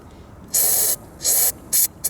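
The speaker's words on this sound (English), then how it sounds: "so I got some really good spray" Three loud, close bursts of aerosol penetrating spray hiss onto a rusted lawn mower rear axle, each lasting about half a second or less, with the final burst the shortest.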